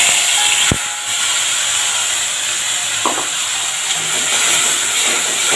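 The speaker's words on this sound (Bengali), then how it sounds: "এবার আমি এই মশলাটা কড়ার মধ্যে ঢেলে দেবো।" Spice paste hitting hot oil tempered with cumin, dried red chillies and whole garam masala in a kadai, a loud continuous hiss and sizzle with a sharp knock at the start and a brief clink later.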